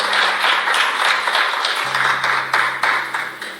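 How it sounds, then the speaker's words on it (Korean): A crowd applauding steadily at a political party talk concert in Korea, many hands clapping in a dense patter with a low steady tone humming underneath. "박수로 환영해 주실까요?"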